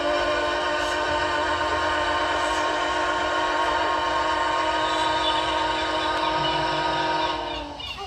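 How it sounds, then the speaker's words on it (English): The Titanic ship whistle in the Roblox video game sounds as one long, loud, steady tonal blast that holds for about seven seconds before tailing off. "Roblox Titanic have a new whistle."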